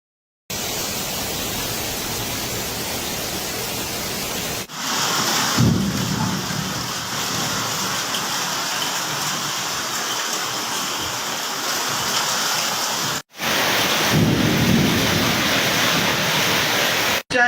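A heavy hailstorm in Chukai, Malaysia brings dense, continuous roaring rain and hail with rumbles of thunder. It runs loud and unbroken through two short cuts, with no talk.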